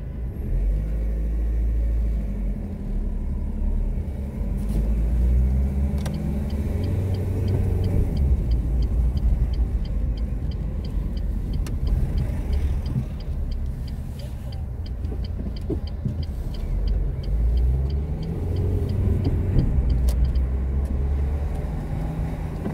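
Car interior on a driving lesson in Vénissieux, the engine rumbling low and steady as the car pulls away on a hill start, with faint ticking and road noise throughout.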